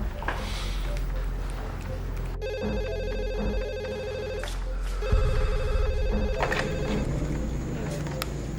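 A telephone rings repeatedly in steady tonal bursts while an outgoing call goes through, set over a low room hum inside a house, with no speech over the ringing.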